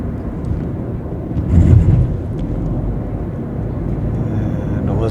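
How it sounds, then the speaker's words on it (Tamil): Airplanes taking off and landing at Las Vegas airport give a steady low rumble that swells briefly near the two-second mark, heard continuously without talk. "ஃப்ளைட்டு ஏறுறது இறங்குறது இருந்துக்கிட்டே தான் இருக்குது."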